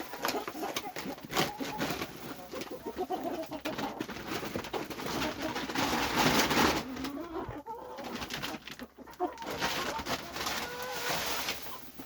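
Backyard laying hens gather in their coop over textured layer feed, giving soft cooing and clucking calls close by against a faint steady background with no talking.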